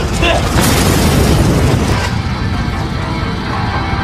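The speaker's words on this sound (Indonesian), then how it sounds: "mobil pun meledak" A loud, dense booming roar like an explosion fills the clip, then settles into a lower rumbling noise.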